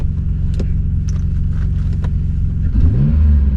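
A Toyota 6M engine, not remapped, in a tuned car idles with a low, steady rumble, a few light clicks over it, then revs up briefly near the end.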